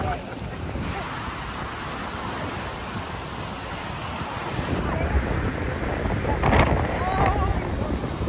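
Rushing water outdoors, a steady broadband roar with wind buffeting the microphone, growing slightly louder toward the end.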